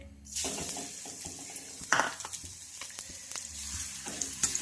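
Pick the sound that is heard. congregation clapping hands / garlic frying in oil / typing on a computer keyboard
garlic frying in oil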